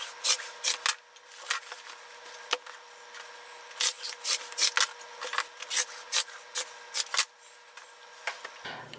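Scissors snip through fabric border strips in quick, irregular bursts of sharp crisp cuts, close and clear against a quiet room.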